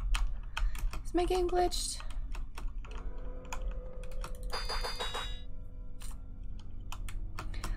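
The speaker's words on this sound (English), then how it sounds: "my space bar is not working. Why are you not working, spacebar?" Rapid, repeated taps on a computer keyboard space bar, clicking in close bursts among game chimes and electronic blips, with a person speaking briefly over the keystrokes.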